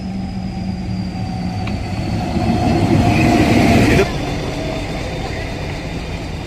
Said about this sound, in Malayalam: ഊട്ടിയിൽ നിന്ന് ലൗഡേൽ അതേപോലെ തന്നെ കൂനൂർ ആ ഭാഗത്തേക്ക് പോകുന്ന ട്രെയിനാണ് വരുന്നത്.